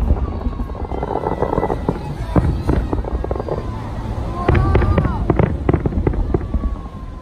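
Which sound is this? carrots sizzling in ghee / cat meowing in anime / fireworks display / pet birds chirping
fireworks display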